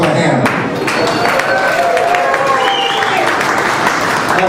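A comedy club audience applauds steadily throughout, a dense wash of clapping with some crowd noise, loud and close, while a performer speaks over it.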